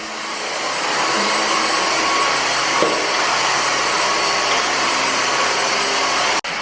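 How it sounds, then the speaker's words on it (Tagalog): A household vacuum cleaner runs steadily and close by, a loud continuous whine and rushing roar with no talking, cutting off abruptly just before the end. "Sabihin ko sana nag-vacuum si Dan."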